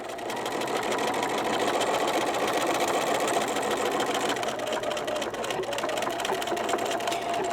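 A sewing machine stitches steadily along the side of a small fabric gift card holder, a continuous close whirring drone with a fast rhythmic needle patter and no pauses.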